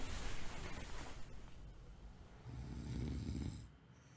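A video game character snoring in long, rumbling breaths that swell and fade, fairly loud with a steady noisy texture and no talk.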